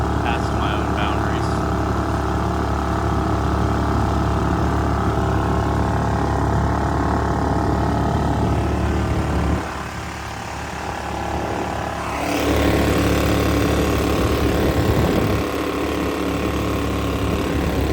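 A Predator 212 engine with a stage 2 setup drives a 14-foot jon boat with a 32-inch bottom, its steady outboard drone running loud and continuous, dipping briefly before surging back, with a voice talking over it.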